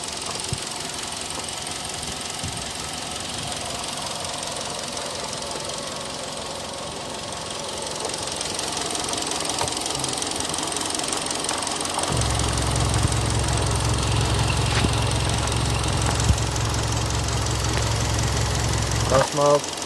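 Gasoline engine of a ten-year-old gray Hyundai Sonata with the hood open, running steadily with a rough, knocking idle close by, then a deeper droning hum joins in the later half, while a person talks over it.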